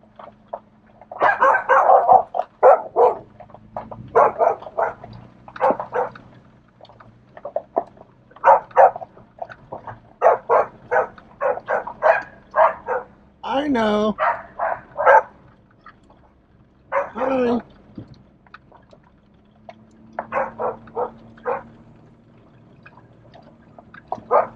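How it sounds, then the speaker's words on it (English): Several dogs bark repeatedly in short bursts along a rural road at a mountain rental property, some barks close and loud, others farther off, continuing throughout with brief pauses. "Here's some dogs."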